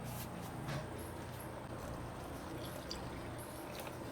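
About a glassful of water is poured into a bowl of nihari masala, heard as a soft continuous pour and trickle running for several seconds in a quiet kitchen.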